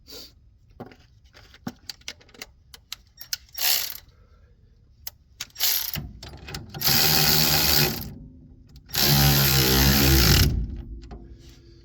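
Socket ratchet cinching down 3/4-inch disc brake bolts on a 1954 Mercury Monterey: scattered clicks and taps, then two long, loud bursts of rapid ratcheting close up, with no one talking.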